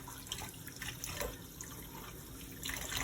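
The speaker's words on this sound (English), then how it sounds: "grab your tap, and just get some running water on there" Tap water runs over a respirator held under the faucet while it is rinsed, a soft continuous splashing stream with small uneven surges, close and fairly quiet, without voices.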